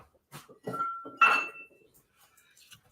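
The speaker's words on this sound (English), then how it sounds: "just going to clean this little measuring spoon" A small measuring spoon is cleaned, with a few bright metallic clinks and taps against glass or dishware, one ringing strike standing out, close and isolated with quiet gaps between.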